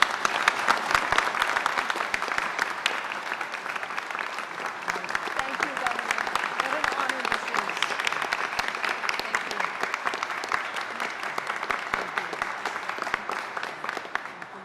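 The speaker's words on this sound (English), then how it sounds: "Let's give a special round of applause to Meredith Bergman." An audience at the unveiling of a Ruth Bader Ginsburg portrait applauds, a long, even stretch of many hands clapping, fairly distant and steady, tapering slightly at the end.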